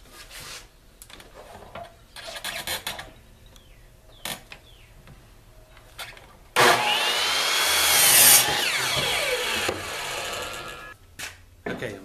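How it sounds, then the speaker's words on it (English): A miter saw cuts a wooden board for wheelbarrow handles. It comes in as a loud, close, sustained whine that builds for about two seconds, with scattered shorter bursts and handling noises before and after. "we'll make this cut over at my miter saw"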